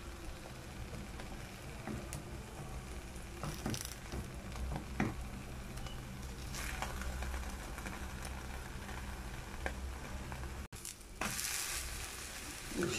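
Keto Nutella fettuccine fries in a pan, giving a soft, steady sizzle with occasional scrapes and light clatter as it is turned over, quiet and close.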